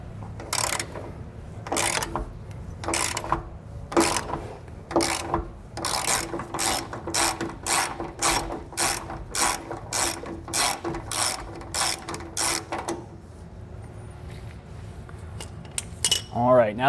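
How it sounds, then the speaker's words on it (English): Ratchet wrench removing a bolt from the front of a Dexter trailer leaf spring, giving bursts of sharp metallic clicking: a few separate pulls, then a long steady run of rapid clicks before stopping, close and clear. "we're gonna take this bolt off right here"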